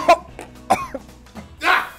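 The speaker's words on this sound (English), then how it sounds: "There's something in here that's making me cough." Coughing fits from someone who has just eaten dry-aged steak in an extremely spicy sauce: a sharp close cough, two more short coughs, then a harsher, longer hacking burst at the end.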